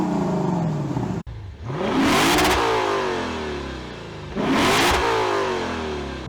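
A 2021 Lexus RC F Carbon's V8 revs on a downshift in two loud rising swells, the second after a short lull, close and throaty with no talk over it.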